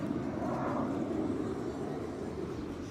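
A steady broadband roar of airplanes passing overhead during an afternoon outdoors in Tainan, Taiwan, sustained and fairly loud with a slow fade.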